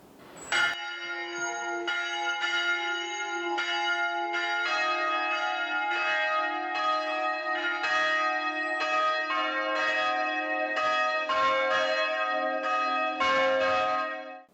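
Church bells ring at Daeheung-dong Catholic church, a steady sequence of clear resonant strikes with long overlapping ringing tones, loud and unaccompanied for about fourteen seconds.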